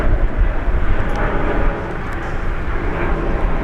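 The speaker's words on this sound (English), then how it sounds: "first let's have a look at this takeoff. China Southern. Double 350s, look at that." A China Southern Airbus A350 takes off at Brisbane Airport with a heavy, continuous jet rumble and roar. The sound stays loud and steady, dipping slightly partway through, with no speech.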